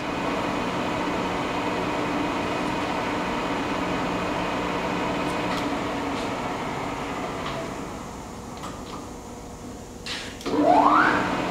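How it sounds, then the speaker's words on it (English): A 20 by 40 inch Victor engine lathe running its longitudinal feed with the lead screw turning, giving a steady mechanical hum and whir that eases slightly before a brief louder clunk near the end. "He's got the lead screw turning."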